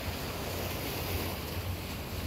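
Ocean waves wash and surge steadily on a beach at night, a continuous loud roar of surf with wind noise and no voices.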